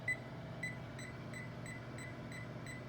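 A kitchen timer chirps in a regular series of about eight short, evenly spaced electronic beeps, faint against a low steady hum from the kitchen.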